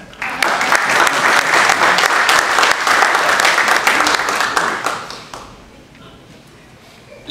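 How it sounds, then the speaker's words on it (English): Audience clapping at a committee meeting rings out loud and close for about five seconds, then tapers off and leaves a quieter room murmur. "You can clap and I'll tell them you loved it."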